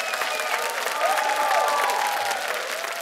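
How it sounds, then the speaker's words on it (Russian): A TV studio audience applauds a rapper as he is introduced on a variety show, a dense, continuous wash of clapping with a faint hint of crowd voices beneath, holding steady throughout. "Ваши аплодисменты"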